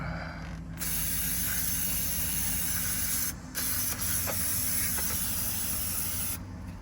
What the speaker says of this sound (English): Got some brake cleaner on that thing, man.